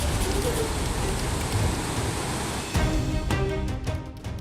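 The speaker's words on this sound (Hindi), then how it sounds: "पंचकुला में झमाझम बारिश हो रही है" Heavy rain pours down in Panchkula, Haryana, a dense continuous hiss of downpour heard loud and close, with a sharper shift in texture near the end and no voices.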